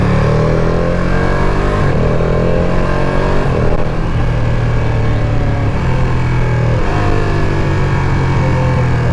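A Ducati Panigale V2 sport bike engine roars loud and close, revving repeatedly in steady rising-and-falling sweeps with a deep, throbbing twin-cylinder drone throughout.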